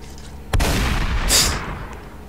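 Shotgun firing in a Roblox GTA game: a single sharp, loud blast near the half-second mark, followed by a lingering rumble and a bright hissing burst as it fades.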